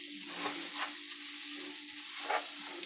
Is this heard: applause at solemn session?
no